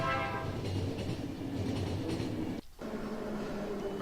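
Steady low rumble and rattle of a moving train in the video game The Final Station, a continuous rolling drone with a brief dropout near the end, no voices over it.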